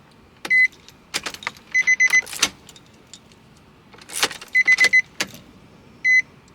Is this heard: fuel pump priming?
yes